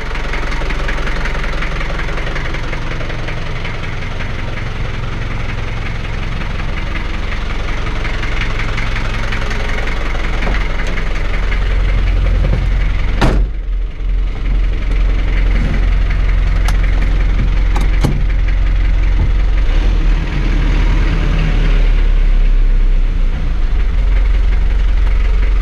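A 1985 Daihatsu Rugger F75 turbo diesel 4x4 idles close by, a steady loud rumble with knocking diesel clatter that runs without a break, and a couple of brief sharp clicks partway through.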